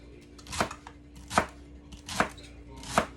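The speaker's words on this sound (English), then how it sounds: "Gonna cut up a little veggies, get my celery ready. Try to cut it up in the little fine pieces." A sharp knife chops celery into fine pieces on a cutting board, giving four distinct, evenly spaced crisp thuds, close and fairly quiet, with nothing else heard.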